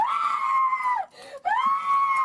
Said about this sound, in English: Don't scream now.